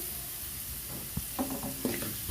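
Masala powder sizzles in hot oil as it is sautéed with fried coconut for a sardine curry, a soft continuous frying hiss broken by a few sharp stirring scrapes near the end.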